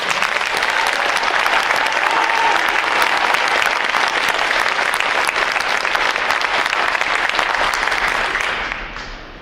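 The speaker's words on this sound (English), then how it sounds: "Please join me in giving them a round of applause for their outstanding performances." A large audience at a Navy graduation ceremony gives sustained, loud applause for the staff unit, dense clapping that holds steady for several seconds before fading out at the end.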